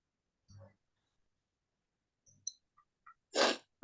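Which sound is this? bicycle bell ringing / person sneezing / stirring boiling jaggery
person sneezing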